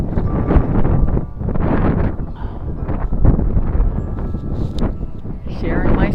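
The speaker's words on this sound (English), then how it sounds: "is so windy out, and I don't know if you can hear me." Gusting wind buffets a microphone worn on the ear outdoors on a windy day, a loud rumbling roar that rises and falls continuously while a person speaks through it.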